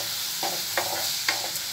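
Onion and green chilli sautéing in hot oil: a steady sizzling hiss with soft scrapes of a spoon stirring the pan every half second or so, with no voices.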